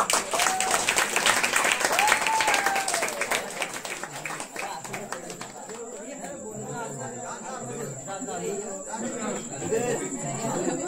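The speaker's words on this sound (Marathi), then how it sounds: "एकदा जोरदार टाळ्या होऊन जाऊ देत." An audience claps loudly after a one-act stage play by a folk dance-drama troupe; the dense clapping fades after a few seconds as a voice speaks over the dwindling applause.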